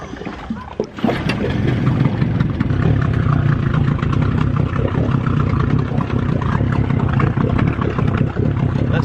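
A Yamaha outboard engine, newly fitted to a sailing boat in the Bahamas, runs steadily at close range with a low, continuous drone after a brief start, with no talk over it.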